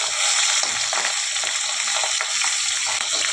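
Pabda fish sizzling and spitting in hot mustard oil in a pan, a loud, crackling fry with sharp popping bursts throughout, close up and without speech.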